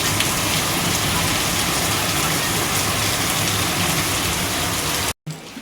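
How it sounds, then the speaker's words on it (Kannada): Rain falling during a cold, stormy spell with the power out: a dense, steady hiss of heavy rain on surfaces, loud and unbroken for about five seconds before cutting off abruptly, with no voices. "ನೋಡ್ರಿ ಮಳೆ ಹಂಗೆ ಬರಕೈತಿ."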